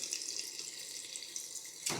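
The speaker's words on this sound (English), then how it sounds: "There we go, water coming through there." Water streams steadily from a tap in an old ex-council house, a close hissing splash that stays constant, ending with a brief louder gush.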